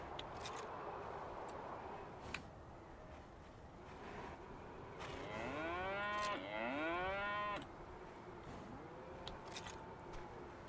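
A cow in a barn stall lets out a long, wavering moo in the middle, fairly close and resonant, followed by a shorter low call, amid faint barn clatter and ticking.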